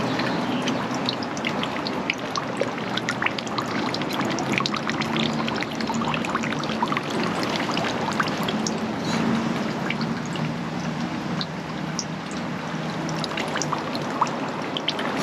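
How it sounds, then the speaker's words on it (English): Water pours and trickles steadily into a stone hand-washing basin at a Japanese Shinto shrine in Kawasaki, a continuous close splashing stream with no talking. "There's the place where we can wash our hands."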